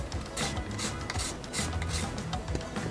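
Lemon or lime peel scraped against a zester, a steady close rasping rub with short repeated strokes, heard alone without talk.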